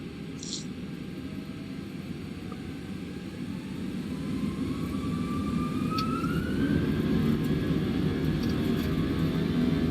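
Airbus A320 jet engines spool up for takeoff in a flight simulator, a steady broadband roar that swells louder about halfway through as a rising whine climbs over it.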